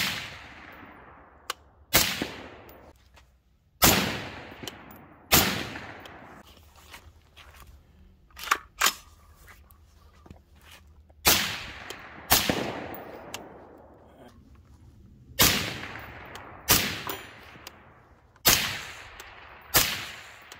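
Rifle in subsonic 300 Blackout fitted with a Resonator K suppressor, firing a series of sharp suppressed cracks spaced a second or two apart over about twenty seconds, some in quick pairs, each ringing off briefly outdoors.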